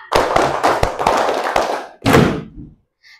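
A primary-school class claps hands in unison, several quick rhythmic volleys of sharp, loud, nearby claps followed by one final burst and a quiet tail.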